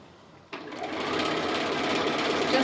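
A sewing machine stitching wiggly lines on appliqué fabric starts abruptly after a brief quiet and then runs at a steady, loud, fast whir with no talking.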